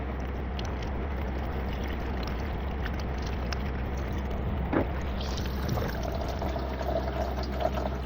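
Coolant pours steadily from the radiator of a Toyota Camry Hybrid into a drain pan, a continuous splashing, gurgling stream heard up close with no talk.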